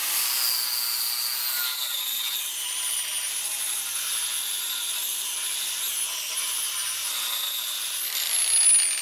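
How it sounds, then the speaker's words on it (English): An angle grinder fitted with a ceramic Norton Blaze flap disc grinds steadily and close by, a constant high whine with a bright edge and a slight rise near the end. No voices. "You can hear the grinder going"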